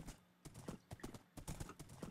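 Horse hooves clip-clop in Minecraft as the horse travels across open ground: quick, steady, rhythmic footfalls in rapid sequence, soft and low in level, with no speech.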